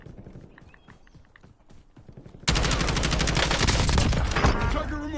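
Heavy gunfire erupts halfway through a Call of Duty battle royale match, a dense, loud burst of overlapping shots and rapid fire that continues to the end after a quieter stretch of muffled game sounds.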